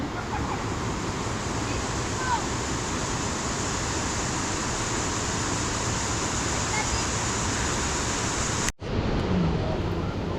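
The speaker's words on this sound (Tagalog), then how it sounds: "Ito na yung ilog." A shallow river in Taiwan flows in a steady, broad rush of water, close and continuous, heard at a moto camping site; the sound cuts off abruptly near the end.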